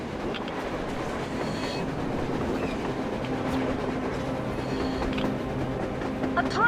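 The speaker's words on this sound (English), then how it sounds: "A damn train on the surface!" A train rolls past above ground in the video game Metro Exodus, a steady rumbling clatter of rail wheels with faint metallic squeals, heard at a distance under background ambience.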